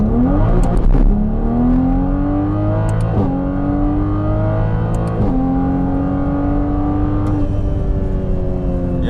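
A big-turbo Toyota Supra running E85 accelerates hard on the street, its engine note climbing through repeated gear pulls with brief shift breaks, loud and close throughout.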